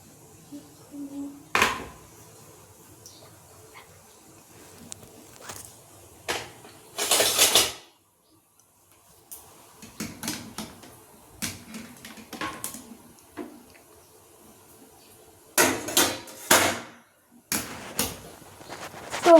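Metal clatter of a dhokla plate set into a steamer and the steamer lid put on, several sharp knocks and scrapes spread out between quiet gaps, close by.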